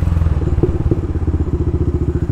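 Motorcycle engine fitted with an aftermarket exhaust, likely a Honda CB Twister, idling close by with a steady, loping thump-thump pulse and faint crackle, alone without talk.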